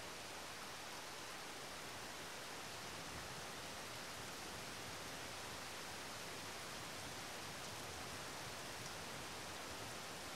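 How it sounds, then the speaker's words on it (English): A light drizzle of gentle rain falls as a steady, soft, even hiss, unbroken and faint, with no voices. "It's just a really pleasant light drizzle"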